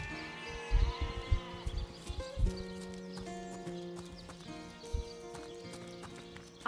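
Sheep bleating in the fantasy game Solasta, heard as a few short bleats over steady hoof clip-clops and other farm animal sounds.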